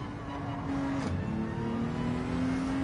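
Honda NSX engine in Gran Turismo 7 daily race practice, a steady droning hum with a held tone that shifts slightly in pitch, constant and moderately loud with no talk over it.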